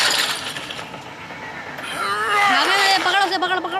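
Glass shattering inside The Wolf Among Us video game, a bright burst of breaking shards under busy game audio and a talking voice, followed by rising tonal game sounds.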